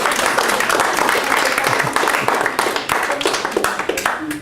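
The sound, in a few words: audience clapping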